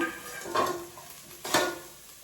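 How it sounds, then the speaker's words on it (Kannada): Sambar powder frying with bottle gourd in a pan, two soft scraping stirs about a second apart over a light sizzle, close and fairly quiet with no speech. "ಅದು ಸ್ವಲ್ಪ ಫ್ರೈ ಮಾಡೋಣ."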